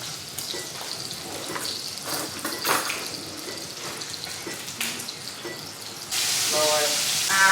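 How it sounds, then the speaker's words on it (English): Bacon sizzling in a pan, a continuous crackling fry with clattering and handling noises, then a louder rushing hiss near the end, close by. "This bacon is cooking."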